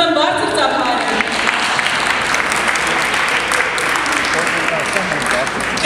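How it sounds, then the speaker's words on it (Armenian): A fashion show crowd applauds loudly and continuously, a thick roar of clapping that holds steady for several seconds with no break. "Խնդրում եմ բարձր ծափահարել։"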